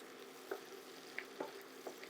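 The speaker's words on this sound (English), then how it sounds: "we're going to start adding in some cabbage. A few handfuls at a time. Start stirring it in." Handfuls of cabbage stirred through a frying pan, a faint soft sizzle broken by a few light scraping and tapping strokes of a utensil, quiet and close.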